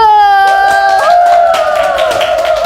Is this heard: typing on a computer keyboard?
no